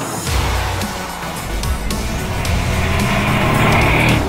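A Mercedes-AMG SL 63 cruises at high speed with side windows up and the rear wind deflector raised, giving a steady, loud broadband rush of wind and road noise over a low engine drone that builds slightly toward the end.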